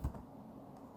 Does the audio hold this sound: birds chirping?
no